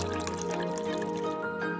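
A Coway Aquamega 200C smart water purifier dispenses water in a short, steady trickling pour over a soft musical background.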